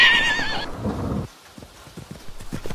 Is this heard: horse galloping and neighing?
yes